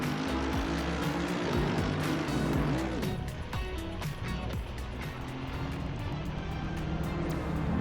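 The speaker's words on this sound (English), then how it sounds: "Mustang rejoins track unsafe and then decides to pay Mercedes driver with brake check, causing a collision." GT race cars in Assetto Corsa Competizione roaring in a sim racing crash between a Ford Mustang and a Mercedes: loud continuous engine drone with shifting revs, tyre squeal and brief thumps of contact.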